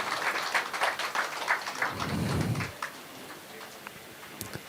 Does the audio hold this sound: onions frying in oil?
no